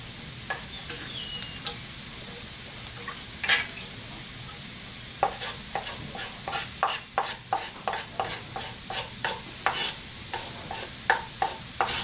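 Lamb going into a Dutch oven for stew sizzles steadily, with a run of regular scraping stirs that quicken partway through. Close and fairly quiet, with no talking.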